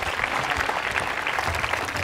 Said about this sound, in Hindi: तालियां बजाइए जानकारी के लिए आप।